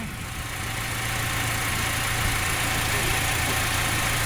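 A Toyota Fortuner engine, being bled after a coolant bypass hose replacement, runs at a steady idle close by, a loud, even mechanical hum with a low rumble and no talking over it.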